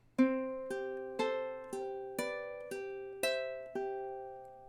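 Ukulele picking measure 16 of a love song, eight evenly spaced plucked notes with a chromatic bass line, each ringing and decaying, played solo and up close.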